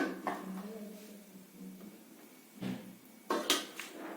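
A plate set over chillies soaking in buttermilk in a home kitchen, a few faint clinks and knocks of dishware, quiet and close, with sparse sharper taps toward the end.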